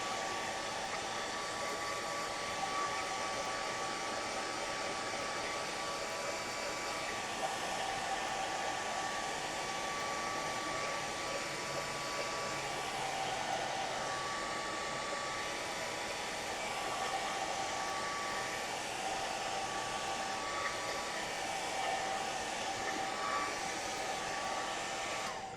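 A hair dryer runs steadily at close range for the whole span, drying acrylic paint on a gelli plate print, its airflow a constant whooshing drone with no talk over it.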